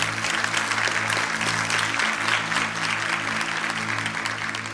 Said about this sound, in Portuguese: Não, faça aplauso do meu pai.